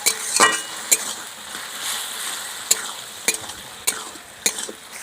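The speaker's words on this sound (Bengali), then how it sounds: "আর একটু ভালো করে আমি চচ্চড়িটা কষে নেবো যাতে জলটা একটু কমে যায়" Ilish fish-head chorchori with shapla (water lily stems) is stirred in a pan over a steady sizzle, with a spatula clinking and scraping against the metal every second or so, up close and without talk.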